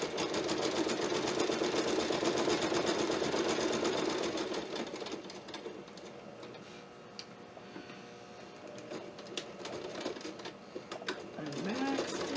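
A sewing machine stitches quilt binding in a steady, moderately loud run for about four seconds, then falls to quieter short bursts and clicks as it backstitches, with a voice speaking briefly.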